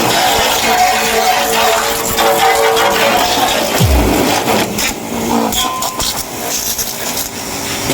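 Power sprayer motor running steadily after an oil refill, a continuous loud rumbling drone with mechanical rattle, close by, with a brief low thump near the middle.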